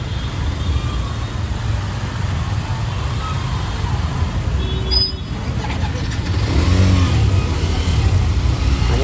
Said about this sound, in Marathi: मंदिराच्या एरियात खूपच ट्रॅफिक असते भावांनो